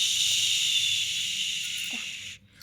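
Water is poured into a hot pan of bean curry and sets off a loud, close, continuous sizzling hiss that holds steady for about two seconds, then cuts off sharply.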